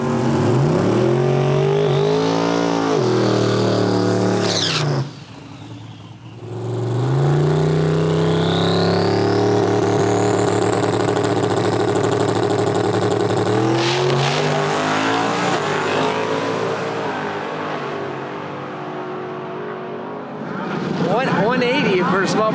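A drag racing car launches hard with its tires spinning, a loud sustained engine roar that drops briefly and then builds again as it pulls away down the strip, with a voice talking over it.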